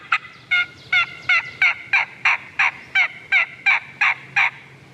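A wild turkey gobbles over and over in quick, evenly spaced bursts, about a dozen loud calls in steady rhythm, fairly close, with no voices over it.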